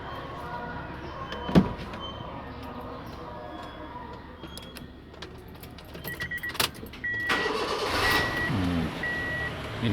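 A 2014 Honda City car engine idles steadily nearby, with scattered clicks and a thump, then short electronic beeps repeat over the running engine.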